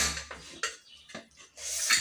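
Metal clatter from a pressure cooker of mushroom biryani being opened, with a few clanking lid and pot sounds followed by a hissy rush near the end, close and moderately loud, no voices.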